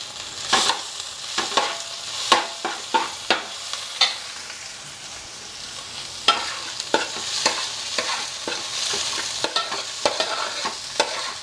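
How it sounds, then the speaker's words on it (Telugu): Onions frying in a pan for a Godavari small fish curry, a steady sizzle broken by repeated sharp scraping stirs at a quick, uneven rhythm, close and alone. "ఉల్లిపాయ ఏగిపోయింది"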